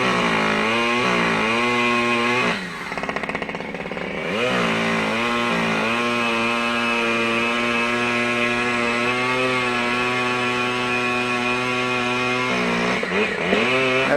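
A chainsaw cutting down a huge tree runs loud and close throughout, its engine revving up and down with a brief dip as the blade bites, steady high-pitched whine filling the scene.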